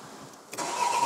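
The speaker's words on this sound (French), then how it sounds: "la voiture va démarrer au quart de tour" A car engine that has sat unused for two months cranks and catches almost instantly, jumping from a quiet background into a steady, close idle within about a second.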